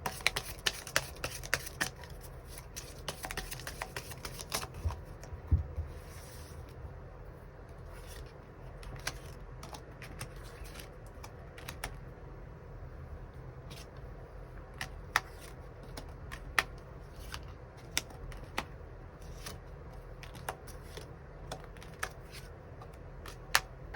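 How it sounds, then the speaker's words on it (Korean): Tarot cards are shuffled and drawn in quiet, close riffles and soft snapping flicks, with scattered taps as cards are set down, heard alone with no talking. "3번 분들 추가 카드로 내가 주목해야 될 사람, 그 상대방의 특징에 대해서 알아보고"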